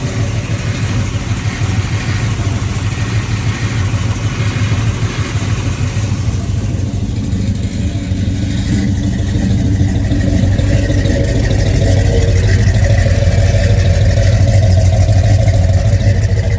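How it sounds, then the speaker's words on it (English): A 1972 Chevrolet Chevelle with a 454 dual-quad V8 runs loudly close by, a steady deep rumble that swells and settles as the engine idles and revs slightly, with no talking. "I'll start it now."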